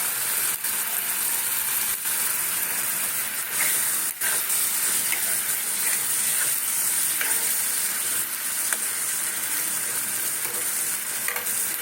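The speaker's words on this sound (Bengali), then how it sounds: "আলু দিয়ে একটু নাড়ানো হয়ে গেছে" Fried potato pieces tossed and stirred in a hot pan with green chillies, a steady close sizzle with scraping stir strokes running throughout, no talking.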